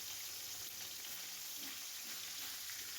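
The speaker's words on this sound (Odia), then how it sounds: "ସେଥିରେ ମାଛକୁ ହାଲକା ଭାଜିବା" Fish fries lightly in hot mustard oil in a wok, giving a steady, fairly quiet hiss and crackle with no voices over it.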